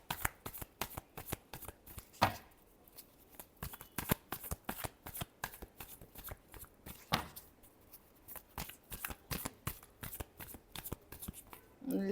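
Tarot cards shuffled by hand in a long run of quick, crisp riffles and flicks, close and fairly quiet, with a couple of louder slaps along the way and no talking.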